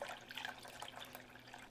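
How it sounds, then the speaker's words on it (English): Water trickles and splashes softly as it is poured into a flan baking pan for a creamy baked flan, a quiet, continuous pour with faint drips and no talking. "You're going to pour enough water to reach to the middle part of your flan baking pan."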